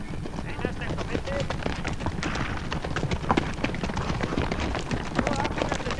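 Horse hooves clip-clop steadily on an arena surface during an outdoor riding lesson, a dense, fairly close rhythmic thudding under a continuous background wash, with an instructor speaking over it.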